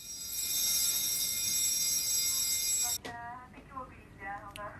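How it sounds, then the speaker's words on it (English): Automatic alarm at a football social club, a loud high electronic tone ringing continuously for about three seconds, then cut off as a voice begins speaking. "This is an automatic alarm."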